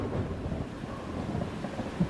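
Low, continuous rumbling of thunder during a heavy storm fills the clip, with a steady wash of rain-like noise and no voices.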